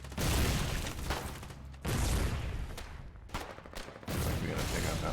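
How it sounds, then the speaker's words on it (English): Mortar and gunfire in the Foxhole war game come as loud, heavy bursts of blasts, several in quick succession, each separated by short, quieter gaps. "We're getting real accurate with that mortar."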